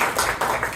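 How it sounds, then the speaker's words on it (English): Audience applause at a construction apprenticeship fair summit: a brief burst of many hands clapping together, dense and fairly loud, without voices. "Can I just get a round of applause"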